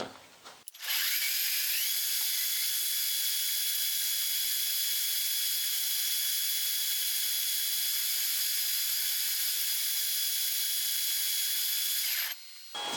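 Drill with a 10.6 mm bit boring a hole in a metal blank for lightweight valve lifters for a Dnipro motorcycle engine, producing a steady, loud, high-pitched whine that runs close and continuous for about twelve seconds, with no talk.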